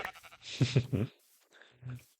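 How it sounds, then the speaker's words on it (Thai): Sheep bleating in the Minecraft video game, a few short wavering bleats in quick succession, then a softer one after a pause, fairly close and clear with no talk over them. "เจอน้องแกะฆ่าเลย"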